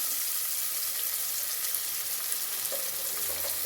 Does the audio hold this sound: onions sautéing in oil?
yes